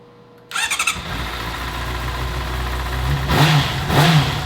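A wrecked 2008 Honda CBR 600RR motorcycle engine cranks briefly, catches and settles into a loud, close idle, then blips up in two sharp revs near the end.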